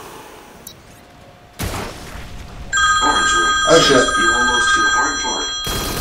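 A telephone rings in steady repeated trills, starting partway through and continuing loudly, layered with game explosions and a person's voice.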